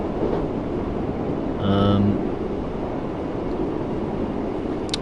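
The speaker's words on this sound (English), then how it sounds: "So it is really the most modern train you could drive on the game at the moment." A BR Class 484 electric train running in Train Sim World 3, a steady loud rumble of motors and wheels throughout, with a brief tonal horn-like whine rising for about half a second near the middle.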